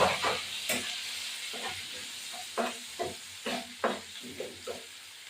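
Ginger, garlic and chillies frying with salt, turmeric and Kashmiri chilli powder, a soft background sizzle broken by a series of scraping stirring strokes at an irregular rhythm.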